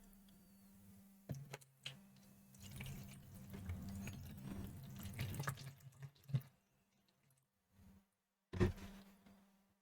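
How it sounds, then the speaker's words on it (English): Water poured into a small container for soaking postage stamps: a faint, close trickle with splashes that swells and stops, followed by quiet and a brief final pour, no talking. "Pour some water in here."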